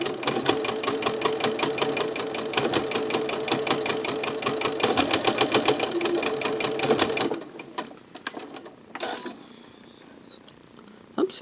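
A Janome Skyline S7/S9 sewing machine fitted with a ruffler foot runs fast and steadily with a rapid rhythmic stitching chatter, then stops abruptly partway, leaving faint handling clicks and rustles.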